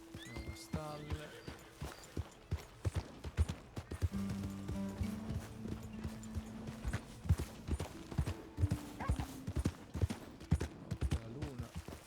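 Horse hooves clip-clopping in Red Dead Redemption 2, a steady run of soft hoofbeats beneath game music and occasional voices.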